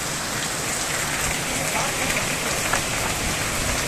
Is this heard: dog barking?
no